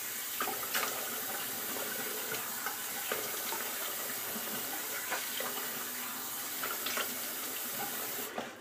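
Steady running tap water as aftershave is rinsed off at a bathroom sink after a wet shave, a continuous close splashing flow with small irregular splashes throughout.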